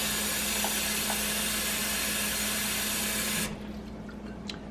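Hot water pours steadily from a tap into a Berkey water filter container, a constant rushing fill that cuts off abruptly near the end, leaving a quieter room with faint clinks.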